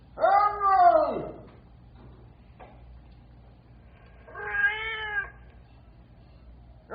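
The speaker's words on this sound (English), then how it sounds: "The cat's over here" A cat meows twice, a long loud wavering cry and then a shorter one about four seconds later, close by over a low steady hum, during an old radio drama about a waterfront rescue.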